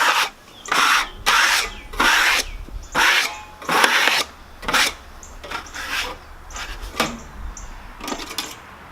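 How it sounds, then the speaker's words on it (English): Rough rasping strokes of a scraper taking burnt saw stain off freshly sawn wood, about ten back-and-forth scrapes in a steady rhythm, close and fairly loud, growing shorter and lighter toward the end. "So you want to scrape it off."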